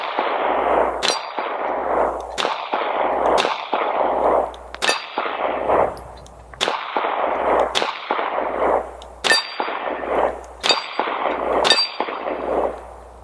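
SAR Arms B6P 9mm pistol fires 147 grain rounds in about ten sharp, loud reports at an irregular but steady pace, each followed by a brief ringing decay, with no talk.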